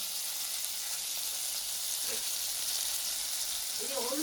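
Bata fish frying in a pan without oil gives a constant broad sizzle. A faint voice briefly surfaces near the end.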